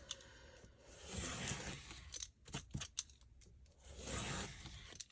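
Scissors make thin cuts through a material with crisp snipping and slicing strokes, close and fairly quiet, with irregular bursts and short sharp snips between longer rasping passes.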